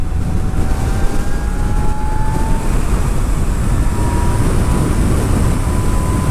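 A 2018 Zero FXS electric motorcycle rides at high speed, heard as a loud, steady rush of wind buffeting with a thin rising electric whine running through it, and no talk.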